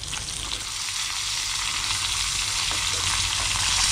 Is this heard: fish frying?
yes